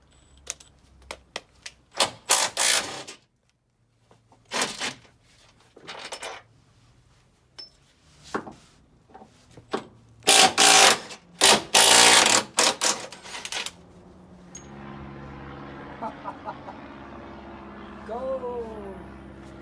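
Ratchet and impact-style tool bursts undo bolts on a Ford Focus front end, loud rapid clicking runs of a few seconds each separated by pauses, ending with a quieter stretch with low hum and light clanks.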